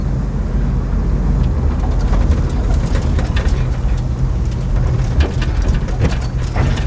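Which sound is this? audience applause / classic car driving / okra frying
classic car driving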